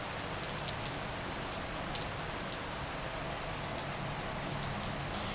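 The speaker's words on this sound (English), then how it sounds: "I love the rain." Steady rain falls on a yard in California, a dense even hiss of drops hitting the ground with scattered sharper patters, unbroken and without talk.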